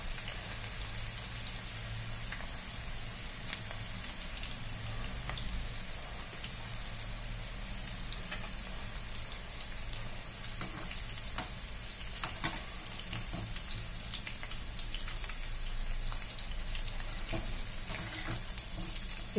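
Wheat flour pakoda fry in hot oil with a dense, continuous sizzle and crackle like steady rain, close and fairly loud, with occasional stirring knocks throughout and no talk.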